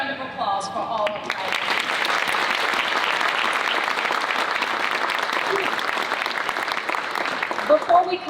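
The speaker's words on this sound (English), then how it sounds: "one more big round of applause for all of you." Audience applause at a Better Business Bureau of Baltimore, Maryland signature event: a dense, steady round of clapping that fills the room for several seconds, with a voice briefly audible at the start.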